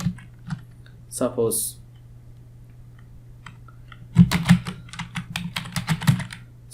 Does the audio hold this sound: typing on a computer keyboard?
yes